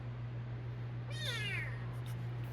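A single drawn-out meow from a formerly stray cat in a workshop, a clear close wavering cry lasting about a second over a steady low electrical hum.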